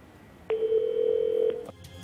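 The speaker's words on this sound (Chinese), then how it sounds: "我们还是再次拨通了他的电话" A telephone dial tone sounds as a TV program crew places a call to a man: one steady, loud electronic tone holds for just over a second before cutting off, with no voices.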